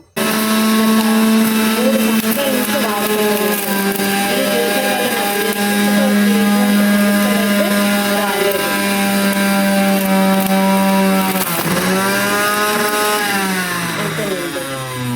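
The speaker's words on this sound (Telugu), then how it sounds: "ఈ జ్యూసర్లో బీట్రూట్, క్యారెట్ లాంటి హార్డ్ వెజిటబుల్స్ ఏవైతే ఉన్నాయో అలాంటి జ్యూసెస్కి అయితే ఇది పర్ఫెక్ట్ జ్యూసర్ అని అయితే నేను ఖచ్చితంగా చెప్పగలను." A juicer motor whines loudly and steadily as hard vegetables, beetroot and carrot, are fed through it, its pitch dipping and recovering near the end under load, close and continuous with no talking.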